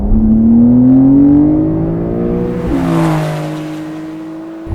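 A 2020 Porsche 911 Carrera engine revs hard and climbs through the gears, loud and close with a gritty rising howl, a brief dip partway through, then it settles back down.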